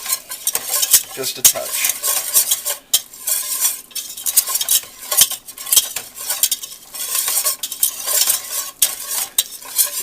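A blonde roux of flour and fat is being stirred in a pan for soup, with a steady sizzle and repeated scraping of a utensil across the pan bottom. A brief spoken remark comes through near the end.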